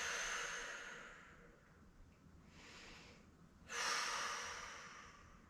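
Heavy, audible breaths during a workout stretch, two long exhalations separated by a quieter pause, close and alone with no talking.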